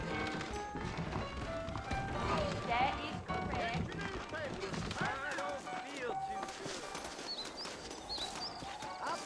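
Horse hooves clip-clop in the video game Red Dead Redemption, a steady trotting patter mixed with ambient outdoor sound and occasional whinnies, running under ongoing spoken dialogue.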